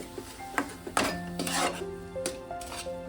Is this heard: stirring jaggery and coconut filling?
yes